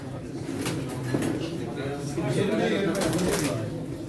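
Pigeons coo softly and continuously in the background at a pigeon auction in Çorum, while people talk and bid over them.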